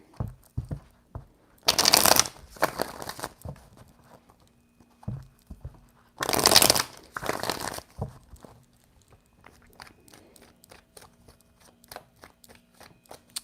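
Cards are shuffled in two loud riffling bursts, each followed by a softer bridge, with light tapping and handling between them.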